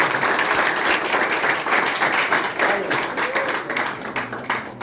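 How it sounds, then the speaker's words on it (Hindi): Loud, dense applause from an audience gathered around a boy named Vikrant at an outdoor market gathering, sustained clapping filling the whole stretch with a faint voice briefly rising beneath it. "हाँ, जरा जोरदार ताली बजाओ।"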